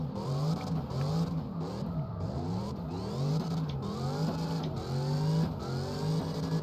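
Drift car engine in CarX Drift Racing 2 with a modified engine setup, revving up and down in repeated rising sweeps as gears change, loud and continuous with no talk.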